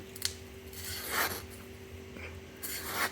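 A 5-inch Hezhen kitchen utility knife slicing through paper in a few quick rasping strokes, close up, with brief pauses between cuts.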